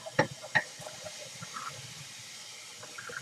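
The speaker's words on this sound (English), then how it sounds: "I'm just going to run the water" Kitchen tap water runs in a soft, steady hiss while soaked dried beans are rinsed in a strainer, with a couple of sharp clatters near the start.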